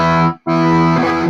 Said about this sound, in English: That's like just overdrive on the clean channel, right?